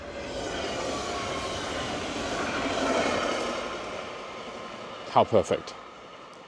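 A train rumbles past steadily at a moderate distance, its broad noise swelling and fading over several seconds, with a brief outdoor remark spoken over it near the end at night.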